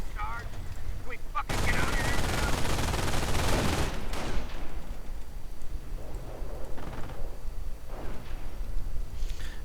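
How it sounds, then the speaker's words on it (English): Gunfire in a WWII strategy game: a sudden, sustained burst of machine-gun fire rattles for a couple of seconds, followed by scattered sharper sniper and rifle shots at intervals over a low battle ambience. "And a bit more sniper fire there, trying to clear out the MG"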